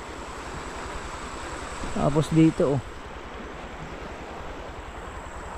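Rushing river water hisses in a steady, continuous wash close by, and a person speaks briefly over it midway.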